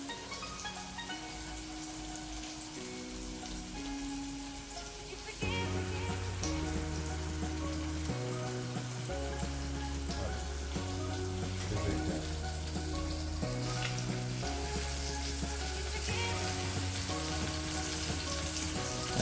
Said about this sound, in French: il faut qu'il y ait au moins de la poitrine fumée qui se mette à chauffer